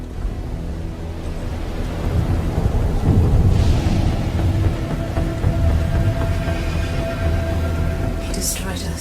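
Thunderstorm in the video game Scars Above: a steady rumbling roar of thunder and rain fills the scene, swelling in the middle and holding loud throughout, with a voice speaking over it.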